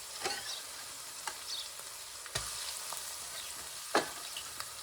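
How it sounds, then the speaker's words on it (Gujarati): Onion hits hot oil for pav bhaji, giving a soft, fairly faint frying crackle broken by a few sharp clatters of a utensil against the pan. "ડુંગળી નાખી દઉં"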